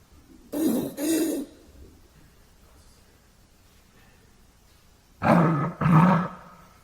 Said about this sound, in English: We get, I think, a pretty convincing monster-esque type of sound with this that, we can morph and change in a lot of fun ways.